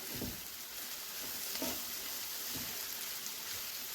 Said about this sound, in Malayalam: പൊറോട്ട ചേർത്ത് കൊടുത്ത് മിക്സ് ചെയ്തെടുക്കാം.